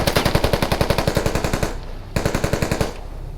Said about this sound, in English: pistol shots